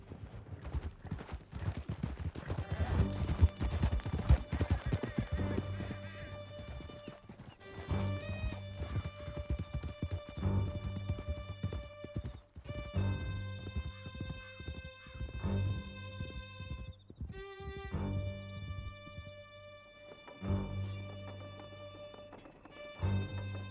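Horse hoofbeats gallop steadily in Red Dead Redemption 2, a fast clip-clop rhythm running throughout, with whinnies, music and other game sounds layered over it.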